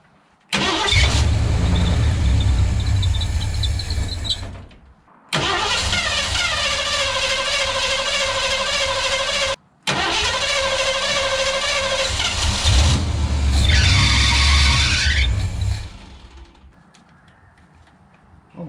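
A car engine cranks and turns over in three long attempts separated by short breaks, loud and close, with a high whining tone in the third try before it fades into a quieter idle.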